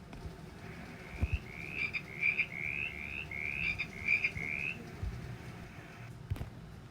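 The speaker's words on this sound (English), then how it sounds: "the frog says," A frog croaks in a rapid series of about nine short, rising chirps, steady and fairly close, over a quiet low background.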